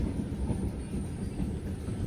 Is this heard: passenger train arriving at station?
yes